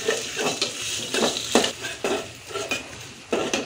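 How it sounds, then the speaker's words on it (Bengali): Ground spice paste stirred and fried in a pan for a Bengali chicken curry, with repeated close scrapes of a spoon against the metal over a soft, steady sizzle. "একটু কিছুক্ষণ ভাজবো যাতে কাঁচা ভাবটা চলে যায়"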